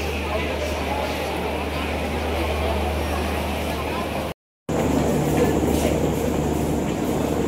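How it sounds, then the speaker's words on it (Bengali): A train standing at a railway platform, its steady low engine hum and rumble continuous throughout with people talking over it, broken by a brief cut in the middle. "এই যেটা হচ্ছে আমাদের ট্রেন"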